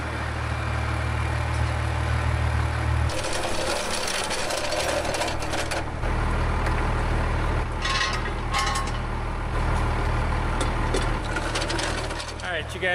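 A 12-valve Jaguar double-cab off-road wrecker truck idles with a steady low rumble and a loud, continuous drone, while people talk nearby over the engine.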